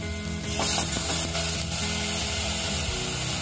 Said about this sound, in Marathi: आता या फोडणीमध्ये हे आपण ह्या शेवग्याच्या शेंगा घालायच्या